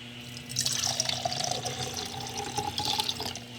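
Water poured into a container that is not glass, a steady close splashing stream lasting a few seconds with a continuous low hum beneath.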